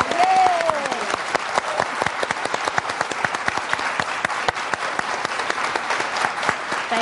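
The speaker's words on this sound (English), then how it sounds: "I think we should applaud her quilt." An audience applauds a quilt at a quilting show, steady dense clapping filling the whole stretch, with a brief voice near the start.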